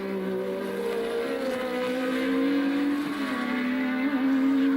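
1982 Formula 1 race cars at Brands Hatch, Ferrari on Goodyear tyres and Toleman on Pirellis, engines wailing in a sustained high whine that climbs and shifts as cars pass.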